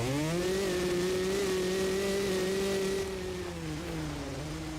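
Motorcycle engine revving steadily in the video game MX vs. ATV Legends, a loud continuous mid-pitched whine that dips and rises slightly toward the end, with no talk.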